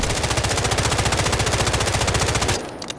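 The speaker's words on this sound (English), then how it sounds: "Wow, this gun shoots really well." Automatic gun firing on a practice range in the Delta Force video game: a loud, fast, unbroken burst of evenly spaced shots that stops abruptly near the end, leaving a brief quieter tail.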